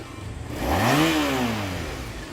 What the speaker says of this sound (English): Beneath its chrome and long silhouette beats a liquid-cooled 745 cubic centimeter V4 engine